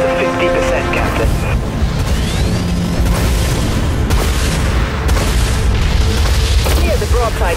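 Spaceship guns fire and explosions boom continuously in the Dreadnought space battle game, loud dense bursts and rumbling blasts with voices talking over them.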